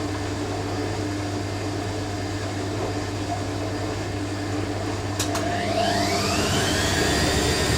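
A vintage 1980s Hoover A3060 Electronic 1100 washing machine spins up to a 500 RPM burst during a bedding wash, making a steady motor whine and drum hum that rises in pitch late on, with a couple of sharp clicks.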